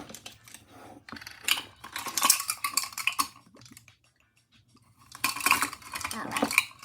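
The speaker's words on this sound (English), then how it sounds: "with a fork, we're just going to mix it all together" Shrimp stir-fry sauce of tamari or soy sauce mixed with a fork, quick clinking and tapping against a bowl in two bursts with a quiet pause between, close and without talk.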